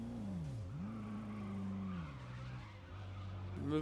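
A Ford GT skids under hard braking in a racing video game, its tires squealing loudly as a pitched squeal sweeps down and back up over steady engine drone, then holds a lower tone before an engine roar near the end.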